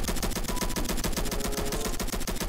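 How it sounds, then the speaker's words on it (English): Shotgun blasts ring out in rapid, repeated succession during a Roblox Flag Wars match, loud and close, with a sharp final burst at the end. "Eat this shotgun."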